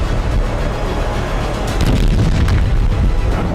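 Bomb blasts in war-torn Gaza roll out as a loud, continuous, heavy rumble of booming explosions, with deep low-end thunder and crackling bursts that swell near the middle.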